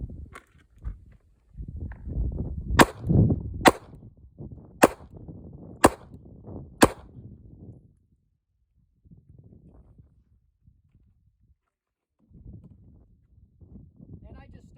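A CZ P-01 pistol fed from an Arsenal Strike One magazine fires five sharp, loud shots about a second apart, with handling noise and low voices around them and a quieter stretch afterward.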